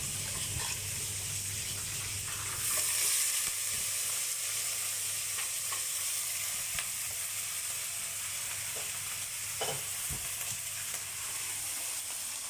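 Chicken fries in a frying pan, sizzling and crackling with a steady hiss, occasional clinks and stirring scrapes, close and continuous.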